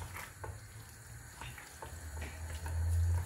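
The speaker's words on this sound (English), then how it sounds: "So the rice in, then I will stir it for a bit." Rice being stirred into a jollof pot, with soft scraping and wet shuffling strokes recurring at an irregular rhythm over a low steady hum that swells toward the end, close and fairly quiet.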